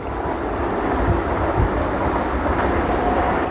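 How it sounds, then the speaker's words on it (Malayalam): A Vande Bharat train rumbling past at a distance near Munroe Island, a steady low roar of wheels and carriages without a clearly audible horn. "ദൂരെ നിന്നും ഒരു ട്രെയിനിൻ്റെ ഹോണടി കേൾക്കുന്നുണ്ട്"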